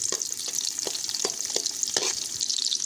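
An onion frying and being stirred in a cup of hot ghee for jungle pulao, with a steady close sizzle and a few sharp stirring scrapes at intervals.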